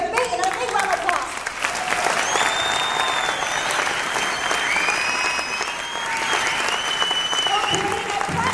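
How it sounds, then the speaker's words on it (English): Sustained applause from a large audience at a corporate distributors' event, dense and steady for several seconds, with cheering and whistle-like shouts rising over the clapping. "let's give a big round of applause"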